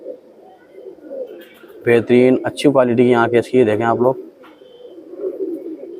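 Indian high-flying pigeons coo softly nearby, with low, steady coos before and after someone speaks loudly over them.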